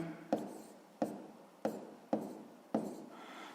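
Pen strokes on paper during a sixth-grade maths exercise, five sharp taps in a steady rhythm, each followed by a short scratchy drag, close and quiet with no talking.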